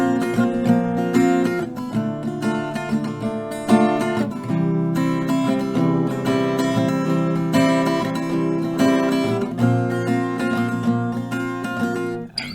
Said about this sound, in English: So strumming 1 chord progression will sound like this.